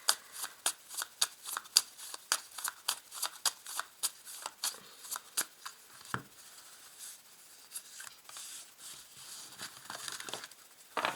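Tarot cards shuffled by hand for a reading: a quick, regular series of crisp riffling slaps, close and clear, that slows into scattered softer shuffles later, with no talking.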